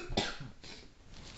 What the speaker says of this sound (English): all the coughing